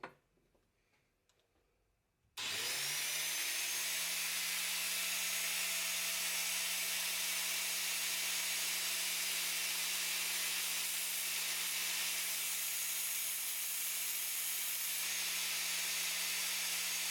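After a quiet moment, a grinder starts up and runs steadily at a loud, even whine and hiss while it grinds the shoulder of a Morakniv knife blade, with no voices.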